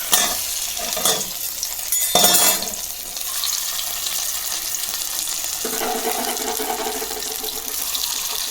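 Egg and paneer pieces fry in hot oil in a wok with a continuous soft sizzle, preceded by a few brief clattering stirs and scrapes near the start.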